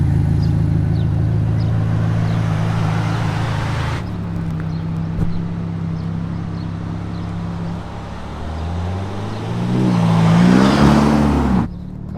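A Ferrari Roma drives off on its first run, its engine droning steadily before rising into a loud, swelling acceleration near the end, heard close with no talking.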